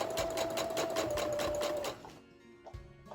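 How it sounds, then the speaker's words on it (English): A sewing machine stitches across pleated fabric for a dog dress skirt with rapid, even mechanical chattering, then stops abruptly, leaving quiet handling clicks and a soft thump. "So I'm going to continue to sew all the way across the first pleat"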